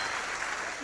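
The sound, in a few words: audience applause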